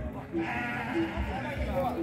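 Sheep bleat at a goat and sheep market in Igaci, Alagoas, Brazil, with several short nasal bleats rising over a continuous murmur of crowd talk and market noise.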